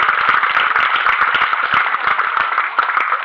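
A big-top audience at a travelling circus show claps steadily for a performer, with dense, close, continuous hand claps filling the whole stretch and no voices over it.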